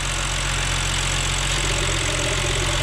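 A BMW N52 engine idles steadily up close, its revs rising and falling slightly in a loose, uneven rhythm, with no talking over it.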